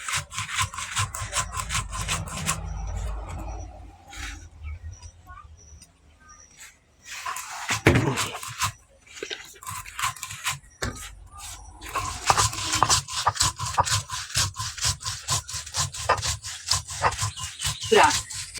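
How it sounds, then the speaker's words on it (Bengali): Thankuni and gandal leaves with salt and black mustard ground to paste on a stone shil-nora, a loud rough rhythmic scraping of the grinding stone back and forth, pausing midway, with some voice in between. "এবার শিলনোড়ায় সব পেস্ট করে নেব ওগুলো"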